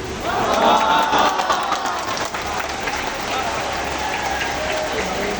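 Applause from a crowd at a madrasa parents' gathering and prize-giving, a dense steady wash of many hands clapping from a distance, with a voice carrying over it.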